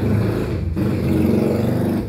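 Motor vehicle engine noise on a city street in Katarman, Northern Samar, a steady loud low drone that holds for the whole stretch with no pauses.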